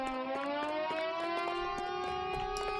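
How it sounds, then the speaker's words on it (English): Wailing siren in the crime video game LA Noire, a steady rising tone with bright harmonics that holds loud and continuous, broken by short sharp percussive hits like gunfire. "Annoying siren."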